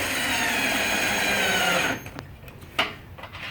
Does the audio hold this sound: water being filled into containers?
no